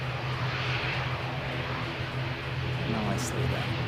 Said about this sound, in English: he'll throw the reverse thrust again